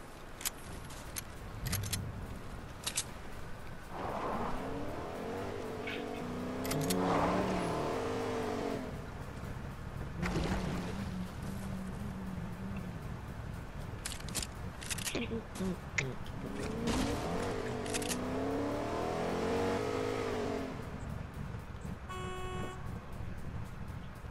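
A car drives in the video game Fortnite, its engine hum and a few horn toots sounding underneath frequent, close talking voices.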